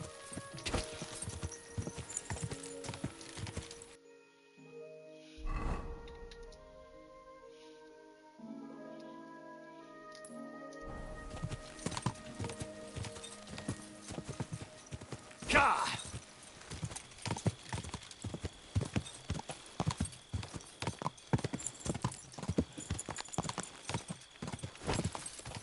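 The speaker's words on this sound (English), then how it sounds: "What do you say we ride over to the horse dealer, and I'll claim you for myself?" Horse hooves clip-clop in a steady, close rhythm while riding in the video game Kingdom Come Deliverance 2, with a brief lull and some voiced game sound in the middle before the hoofbeats resume.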